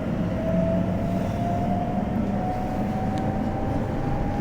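Interior of a London Northwestern Railway Class 319 electric train running between Tring and London Euston: a steady, loud low rumble of wheels and traction with a faint rising whine throughout, no talk.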